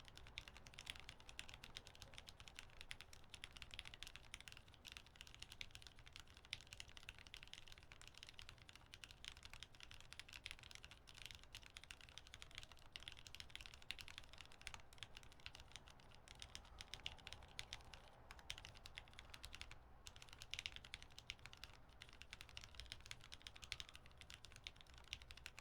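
Steady, continuous clatter of keys being typed on a hot-swap mechanical keyboard with an O-ring mount, the spacebar's repeated thocks among the rapid, close-up keystrokes, with no voices.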